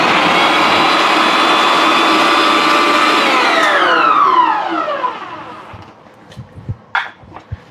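A one-litre electric vegetable chopper attachment runs loudly at first speed, its motor whirring steadily and then spinning down with a falling pitch. A few clicks and handling knocks follow.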